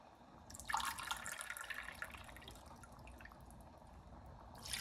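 Hot water poured into a cooking pot for majboos, a broad watery splashing stream that starts sharply, runs steadily for several seconds, then eases before a brief fresh burst at the end.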